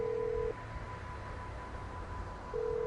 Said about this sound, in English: I'll pull up my phone, I'll go to Lester, you know, I'll call him.